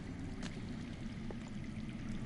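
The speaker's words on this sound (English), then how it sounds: "I hear water. From underground." Underground water flowing in the Game of Thrones Telltale video game, a faint, continuous rushing trickle heard alone with a couple of small splashes.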